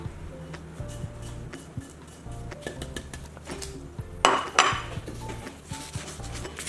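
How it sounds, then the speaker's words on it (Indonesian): Stone mortar and pestle grinding spices with fried shallots and ground pepper, with repeated scraping and knocking plus a few sharper clinks, close up and with no talking. "Kita ulek kembali sampai benar-benar lembut."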